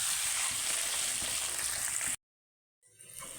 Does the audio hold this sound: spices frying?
yes